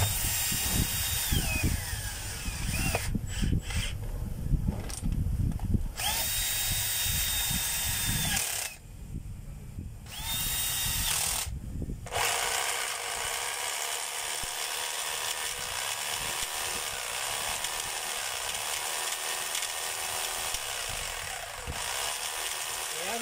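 An electric motor armature runs noisily on the bench during repair, a harsh, steady mechanical whine that cuts out briefly a few times before droning on.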